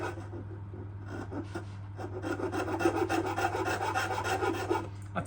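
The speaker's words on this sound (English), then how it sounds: "I'm going to start with this, which is a really aggressive saw rasp" A Japanese-style saw rasp shapes a wooden violin neck in steady, rapid rasping strokes, close and fairly loud, with a constant low hum underneath and no voices.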